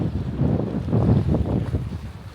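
Strong seaside wind buffets the microphone in a continuous low roar with gusting pulses at a beach promenade, with no voices over it.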